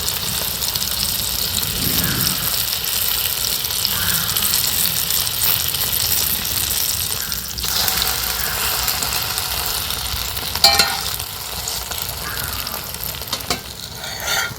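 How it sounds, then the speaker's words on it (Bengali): An egg paratha topped with onion, tomato and coriander sizzles steadily on a hot pan after being flipped. The frying hiss is even and close, broken by a few soft clinks. "উল্টো পিঠটাও এইভাবে কিন্তু সেঁকে নেব।"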